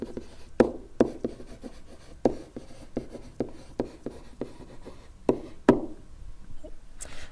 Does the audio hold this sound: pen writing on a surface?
yes